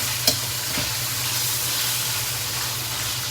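Beef fries with onions in a hot pan, giving a steady, dense sizzle that holds without a break, with one faint clink near the start.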